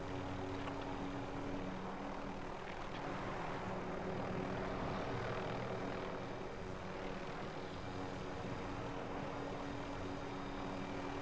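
Steady rotor and engine drone of a helicopter in a PS4 video game, a continuous broadband roar with low thumping undertones held at an even level throughout, no voices.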